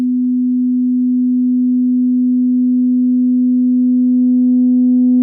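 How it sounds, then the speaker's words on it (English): A steady low 250 Hz sine tone holds constant, with faint upper harmonics creeping in toward the end. "here's this sine wave at 250 Hz."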